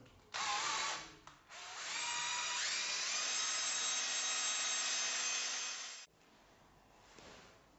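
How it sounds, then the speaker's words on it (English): A power drill whines steadily for several seconds, its pitch shifting as it bites 20 deep into a block, then cuts off, with short bursts before and a faint rumble after. "So I've marked this with tape to drill it 20 deep"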